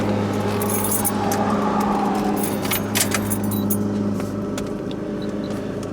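Keys jangle in bright, clustered metallic clinks inside a Mazda RX-7 while a car engine hums steadily underneath, the jingling busiest early and thinning out toward the end.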